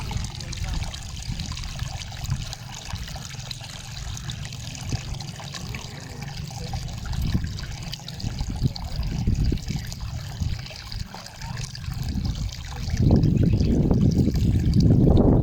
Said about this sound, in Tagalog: Sarap ng sound ng tubig ko.